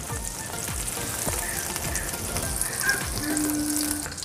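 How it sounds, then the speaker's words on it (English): Butter melting in a pan, set over heat for salt and pepper shrimp, sizzles with a soft continuous hiss and scattered faint crackles, nearby and moderately quiet. "Let's melt some butter."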